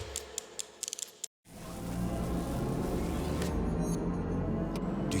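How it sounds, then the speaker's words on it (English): A BMW all-electric performance car starts with a few sharp mechanical ticks, then after a short silence a loud, steady electric whirring hum takes over and holds, with no engine or piston sound. "That is the sound of BMW performance without a single piston or cylinder."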